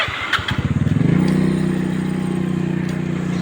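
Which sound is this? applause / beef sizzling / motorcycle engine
motorcycle engine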